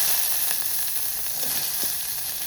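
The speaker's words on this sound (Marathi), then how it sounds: "कांदो मातसो सुबेजूत घातला" Onion frying in oil in a pan, a steady bright sizzle with small pops and crackles, close and continuous without any voices.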